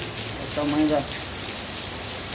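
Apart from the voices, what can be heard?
heavy rain and street torrent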